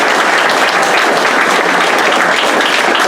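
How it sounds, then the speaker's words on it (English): A banquet crowd at an EMS dinner hosted by the American Legion claps in a steady, dense burst of applause, close and full for the whole few seconds with no talking. "one more round of applause for the American Legion."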